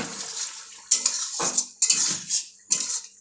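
A metal utensil clinks and scrapes against a cooking pan of prawn malai curry, with four or five distinct bursts of clattering and stirring, close and fairly loud, no voices.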